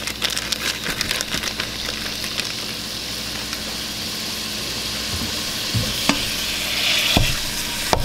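Meat with sesame seeds frying in a pan over high heat, giving a loud, steady sizzle and crackle with scraping stirs and a few sharp pops, close up and without talk.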